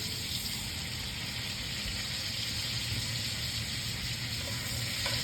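Raccoon meat quarters searing in a hot buttered skillet, giving a steady, fairly quiet sizzling hiss with a low background rumble and no talking.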